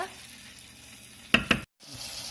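Chicken pieces sizzle in masala as they are stirred in a pan for Tamil chicken kulambu, a soft steady frying hiss broken by two sharp scraping stirs and a brief pause.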